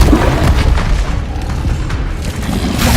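Incendio fire spell cast in Hogwarts Legacy, a loud booming blast with a dense rumbling, crackling body that stays heavy for a few seconds.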